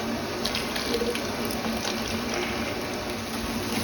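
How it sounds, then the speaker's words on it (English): Steady trickling and splashing of water as it is squeezed out of a dyed skein of wet Donegal yarn, continuous and close, with no voices. "Squeeze as much water out of this as I can."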